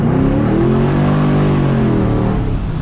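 A turbocharged car engine is floored and accelerates hard, a loud, close, sustained roar whose pitch swells and then eases back, with no voices.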